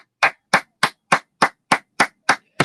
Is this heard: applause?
yes